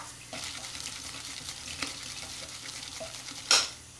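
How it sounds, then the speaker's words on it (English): Soap is worked with water into a thick lather in a steady, soft wet swishing and churning, ending in a brief louder splashy burst. "I just want to keep on introducing water to it until it's just this thick lather."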